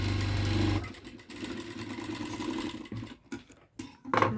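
A sewing machine stitches an aari-work blouse, a steady mechanical whir for nearly a second followed by stop-start bursts of running and short pauses, close and moderately loud.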